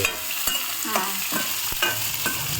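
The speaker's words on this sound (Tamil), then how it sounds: "வெங்காயம் பச்சை மிளகாய் இஞ்சி கேரட் பீன்ஸு எல்லாம் ஒன்றா போட்டு நாம் தாளிக்க போகிறீங்க" Onion, green chili, ginger, carrot and beans sizzle and crackle in hot oil, with sharp clacks of a spoon scraping and stirring the pan every half second or so, close up.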